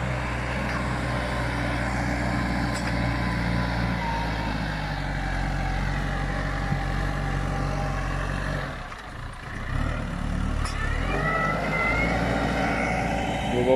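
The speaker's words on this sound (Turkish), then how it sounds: "Traktörümüz." A 2018 Case Puma tractor engine runs steadily in a long-unplowed field, a loud continuous low diesel drone with a brief dip partway through and no talk.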